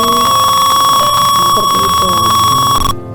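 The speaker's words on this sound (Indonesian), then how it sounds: "maka ini buzzernya akan berbunyi" A loud, steady high-pitched fire alarm buzzer, simulated in Tinkercad with an Arduino Uno and temperature sensor, sounds continuously with a person talking beneath it, then cuts off abruptly at the end.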